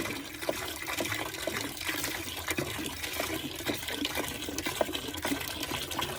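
Liquid is poured into a container for degreasing a bear hide, a steady splashing, gurgling stream with small irregular splashes, close and continuous, with no talking.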